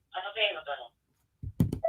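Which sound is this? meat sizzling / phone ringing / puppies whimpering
phone ringing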